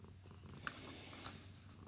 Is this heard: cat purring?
yes